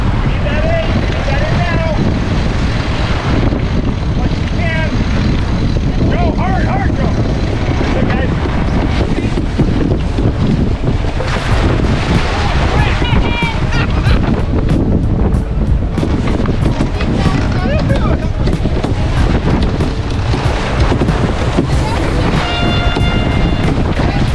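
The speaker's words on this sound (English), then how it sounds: "there was a lot more wind on this day than there was on day 1" Strong wind buffets the microphone in a steady roar while a keelboat sails through the water during a regatta race, with voices talking intermittently over it.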